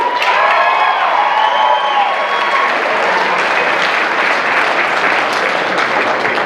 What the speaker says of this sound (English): One more round of applause for our Lieutenant Governor Kay Barstow.